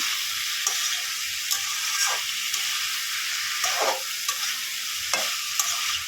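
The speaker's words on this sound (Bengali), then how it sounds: "বেশ কিছুক্ষণ ধরে এটাকে আমি কষে নিই বন্ধুরা পাঁচ সাত মিনিট আমি ভালো করে এটাকে কষিয়ে নিয়েছি" Masoor dal mixture sautéing in a pan, a loud continuous sizzle broken by regular stirring strokes every second or so, close up with no voices.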